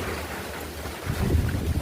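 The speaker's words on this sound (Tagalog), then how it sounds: "Hanggang ngayon, lakas pa ng hangin dito." Strong wind roars and buffets the microphone, gusting louder toward the end with a broad rushing noise.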